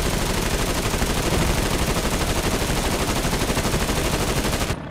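Aircraft machine guns fire in War Thunder, a continuous, loud, fast rattle that holds for nearly five seconds before cutting off sharply.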